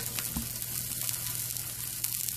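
Sliced and chunked sausage meat browns in a pan with an even, close sizzle and crackle, flecked with small pops and one brief scrape, and no voices.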